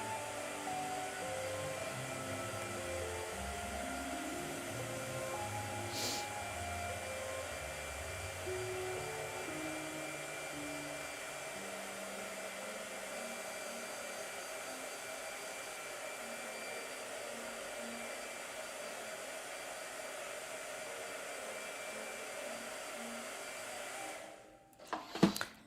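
A blow dryer runs continuously at close range, a steady whirring airflow drone that persists alone for about twenty-five seconds before stopping with a brief clatter.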